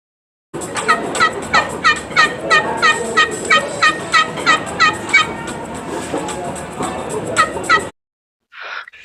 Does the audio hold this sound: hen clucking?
yes